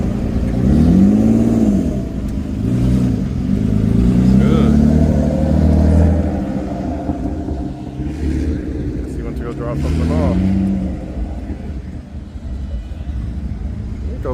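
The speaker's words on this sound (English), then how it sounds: "Oh, the drift car's back." A drift car revs its engine at a classic cars and coffee meet, the engine note rising and falling in loud surges over the first several seconds, then settling to a lower idle-like rumble, with people talking nearby.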